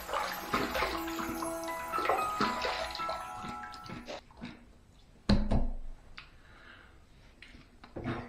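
Bathroom tap water runs for a rinse after a wet shave pass, a close splashing flow mixed with clinks and knocks, then quieter handling sounds and one sharp thud.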